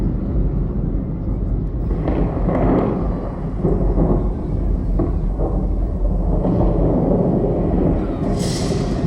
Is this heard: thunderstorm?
yes